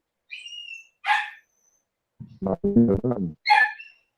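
A dog barks in a sharp, loud burst of several quick barks close by, set between high squeaky chirps.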